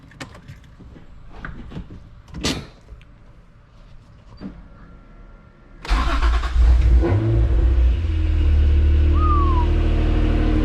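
A Honda NSX engine cranks and catches, then settles into a loud, steady idle with a brief rev, after some quieter clattering and bumps.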